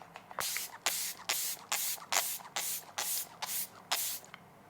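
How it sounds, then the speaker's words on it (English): Nine short bursts from a makeup setting spray bottle, each a crisp hissing mist, pumped in a quick steady rhythm close to the listener with brief pauses between. "Let me just spray this first."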